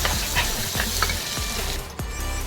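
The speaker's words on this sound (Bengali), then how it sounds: "এটাকে ভালো করে কষাই" Chicken stir-fried in a pan for a pilau dish, with a continuous dense sizzle and several scraping strokes of a spatula, close and loud, without speech.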